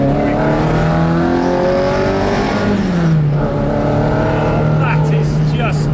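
Cosworth-powered Ford Escort RS2000 race car engine heard from inside, a loud, continuous droning roar that climbs in pitch, drops sharply as it shifts, then holds steady.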